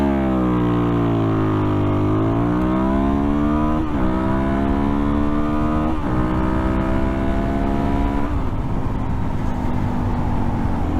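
A Suzuki DRZ400SM motorcycle pulls away from a second-gear launch, its engine note climbing steadily with several distinct rises as it revs up through the gears, loud and close with no talking.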